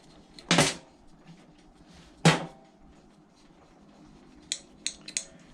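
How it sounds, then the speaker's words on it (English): A few sharp metallic clicks and clacks, spaced by pauses, come from removing four 8mm valve cover bolts on a 212 small engine, followed by a quick cluster of lighter taps. "So we'll take off these 4 8mm bolts. Taking off the valve cover."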